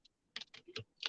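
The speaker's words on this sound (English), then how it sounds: "Now I'm typing into ME dash" Quiet, close computer keyboard typing in short uneven bursts of clicky keystrokes separated by brief pauses, with no talking.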